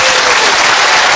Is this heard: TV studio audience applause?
yes